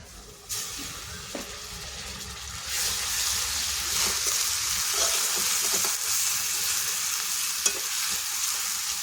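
Onion paste frying in hot oil in a wok for a spicy mourola fish curry, a steady loud sizzle and hiss with a rise in intensity partway through and scraping stirring strokes, no voices.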